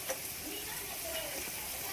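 Spices tempering in hot oil with grated coconut and coriander masala powder added for a Marathi dal batti, giving a soft, steady sizzle and faint stirring, close but fairly quiet throughout.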